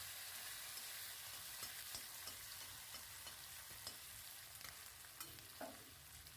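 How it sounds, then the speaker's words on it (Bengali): Green chillies, ginger and garlic stir-fried in hot oil with cumin for green chilli sauce, a quiet, even sizzle with soft scraping strokes of a spatula and a few light clicks, heard close. "রাখা কাঁচা লঙ্কা, আদা এবং রসুন"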